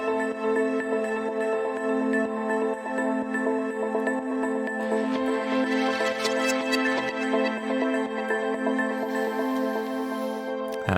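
Atmospheric synth layers made with Ableton stock plugins for a melodic house track: a dense, sustained pad of held tones with shimmering upper texture, steady and continuous throughout.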